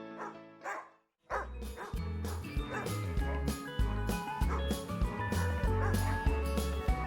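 Several shelter dogs at a humane society bark, yip and whimper in a loud, continuous chorus that starts after a brief quiet gap, close and overlapping throughout.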